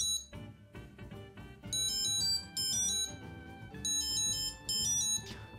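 An Anker card-type item tracker sounding its find-me alert: a bright electronic ringtone of repeating high beeps and chirping melodic phrases, heard up close and alone for several seconds.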